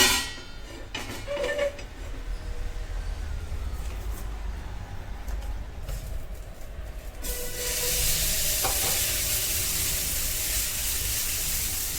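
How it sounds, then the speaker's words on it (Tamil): Millet dosa batter poured onto a hot pan gives a broad hissing sizzle that swells louder after a few seconds and then holds steady, with faint clinks early on and no talking. "மில்லட் தோசை ஊற்றிக்க போகிறேன்."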